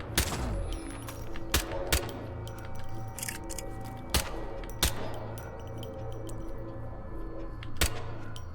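Scattered gunshots from the video game Hitman 2, sharp isolated bangs spaced irregularly over a low, busy game soundscape, about eight cracks across several seconds, moderately loud.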